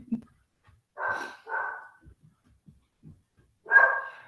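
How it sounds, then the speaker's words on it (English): A dog barks indoors, three distinct barks spaced apart with quieter knocks and shuffles between them, fairly close and clear. "quit barking"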